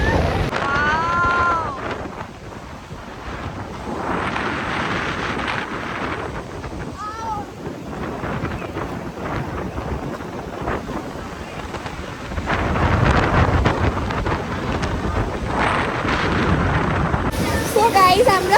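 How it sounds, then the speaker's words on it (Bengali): A storm on Cox's Bazar beach brings strong wind that roars and buffets the microphone in heavy gusts, with rain and rough surf mixed in and a voice talking at times. "এত বাতাস, এত বৃষ্টি আসতেছে, ঝড়"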